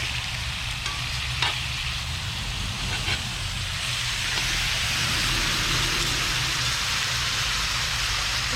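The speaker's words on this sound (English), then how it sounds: "I'm going to go ahead and give this a stir. And then I'm going to turn my pork." Pork tenderloin and squash with veggies fry outdoors, a steady broadband sizzle running the whole time with a few faint scraping stir sounds and a low hum underneath.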